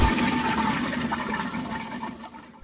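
Old pull-chain toilet flushing, water gushing loudly into the bowl at close range and then slowly tapering off as the rush subsides, with no voices.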